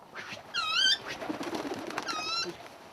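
Pigeons in a loft give soft coos and whistling calls, with a burst of wing flapping as they take off, all close by over a steady background hiss.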